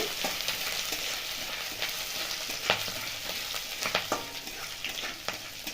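Spice paste sizzling in a pan with curry leaves, slit green chillies and ginger paste, a dense close fry hiss broken by spattering pops and occasional stirring clinks.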